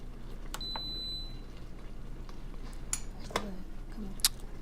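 An Instant Pot pressure cooker in a home kitchen gives a few short, high electronic beeps as a cooking setting is chosen for turkey chili, with light clatter and low background noise around them.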